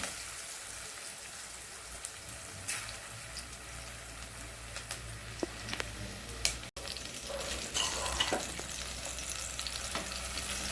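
Onions frying in a pan until reddish brown make a continuous crackling sizzle like light rain, with occasional spatula scrapes and a short dropout partway through, close and moderately quiet, with no speech.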